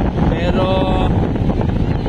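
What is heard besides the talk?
strong wind at the beach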